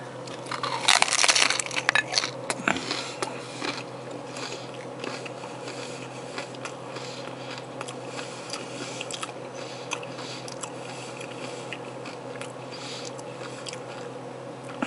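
Crunchy bites and chewing of an Old El Paso bold spicy cheddar hard shell taco with meat, tomatoes, garlic and onion, a loud crackle early on, then softer steady chewing close to the mouth.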